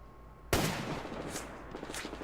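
Gunfire in the Survarium shooter game: a sudden loud shot followed by a rumbling tail and scattered further reports, with no voice over it.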